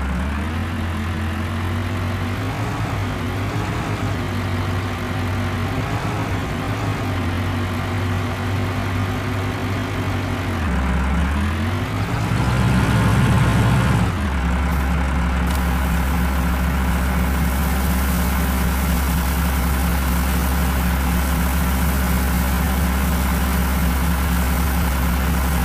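A 90-horsepower Indian tractor, a 4x4 855 model pulling a trolley in Farming Simulator 20, runs with a steady, loud low engine drone that swells and dips around the middle before settling back to an even rumble.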